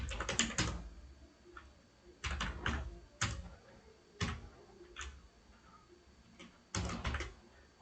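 Fingers type on a computer keyboard during Python coding, in short bursts of rapid, clicky keystrokes separated by quiet pauses, heard alone and fairly close.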